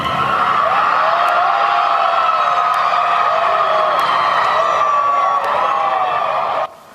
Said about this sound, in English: That was the moment the crowd outside of court in Dedham heard the verdict.